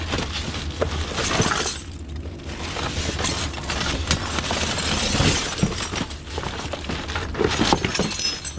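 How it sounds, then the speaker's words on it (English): Glass bottles and jars shatter and clink continuously inside a UK dumpster, a dense, loud crunching and rattling with sharp breaks that carries on throughout. "So much glass."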